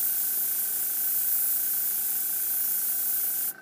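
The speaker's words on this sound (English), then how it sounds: "you take your gun and you just very gently press the button and spray the paint" An airbrush gun sprays paint in a steady, close, even hiss that holds for several seconds before cutting off abruptly at the end.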